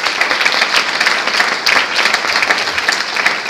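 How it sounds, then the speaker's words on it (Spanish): A church congregation bursts into loud, sustained applause, dense clapping from many hands filling the room without a break. "Denle un fuerte aplauso al Señor."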